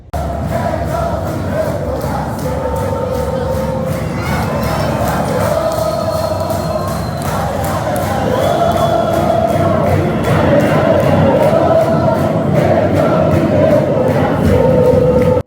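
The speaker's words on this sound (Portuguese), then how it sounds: "a torcida do Flamengo, que não tem nada a ver com o que aconteceu entre Ronaldo e Cruzeiro, fez a festa no Mineirão" Flamengo football supporters chant and sing in a large mass at Mineirão stadium, a loud continuous crowd roar with sustained choral melody that swells louder in the second half, no speech over it.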